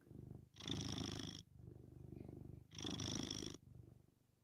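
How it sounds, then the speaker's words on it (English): A cat purrs loudly and steadily up close, the rumble rising and falling with each breath in long even cycles, alone with no voices over it. "she's certainly purring like crazy"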